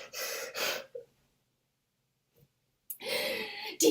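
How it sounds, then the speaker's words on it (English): A person takes two deep, audible breaths in, then exhales loudly, with a short silence between the breathing sounds during a comedic interpretation performance. "Deep breathing's not working today"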